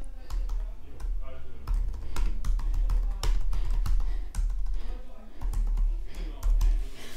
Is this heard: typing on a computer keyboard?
yes